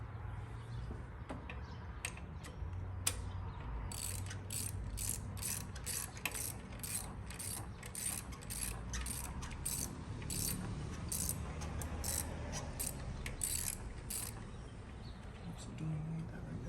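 A ratchet tightening a new spark plug on a BMW F90 M5 S63 V8 gives a run of quick, crisp clicks in steady bursts over a quiet workshop background, with someone speaking softly at times.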